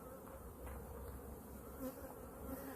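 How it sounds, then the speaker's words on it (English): Honeybees swarming around a newly relocated hive, a faint continuous buzzing hum with a few passing bees drifting closer, no talking. "what they're doing now is they're just swarming around"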